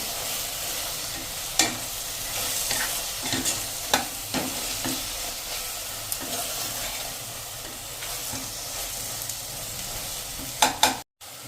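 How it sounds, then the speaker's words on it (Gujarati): Red chili powder and coriander-cumin spice mix frying in oil in a pressure cooker over medium flame, a steady sizzle broken by sharp scraping clicks of a spoon stirring now and then. "મીડિયમ ફ્લેમ ઉપર જ આપણે આને 1 મિનિટ થવા દેશું મસાલા મિક્સ કરીને"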